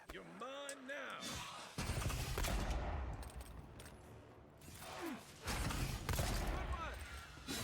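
Dual pistols fire in the Avowed video game as two dense bursts of rapid shots among game sounds, with voices speaking around them.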